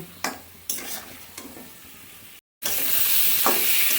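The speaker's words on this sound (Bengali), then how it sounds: "এবার মশলাটা ভালো করে কষিয়ে নেব।" Ground spice masala of ginger paste, chili powder and coriander powder fries and gets stirred in a pan, with sharp scraping strokes and a steady sizzle that swells loudly after a brief break.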